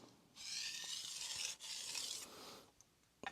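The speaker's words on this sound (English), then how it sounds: "I'm just going to do a real quick couple of passes, like stropping strokes here." Quiet stropping strokes of an Aogami steel knife across a whetstone, two smooth hissing passes separated by a short pause, close and faint with a small tap at the end.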